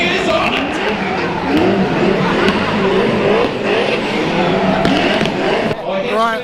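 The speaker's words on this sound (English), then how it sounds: "just warming up the tyres" Race car at a speed show warming its tyres, with a loud, continuous engine roar and tyre screech that rises and falls for several seconds, while a crowd and voices murmur underneath.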